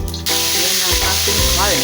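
Meat sautéing in a hot pan for a Filipino kalabasa and sitaw dish, a loud steady sizzle that jumps up sharply and holds close, with faint tonal voice-like sounds drifting through.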